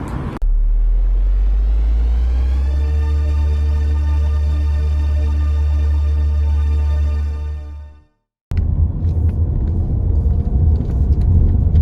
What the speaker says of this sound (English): I'm making a video while I'm driving